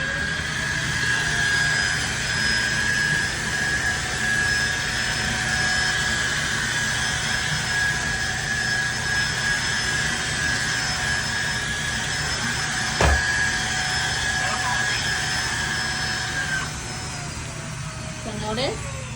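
A Tineco Floor ONE S3 cordless floor cleaner runs on hardwood floors, a steady whining motor drone with a high tonal whistle, close and continuous, with a brief knock partway through.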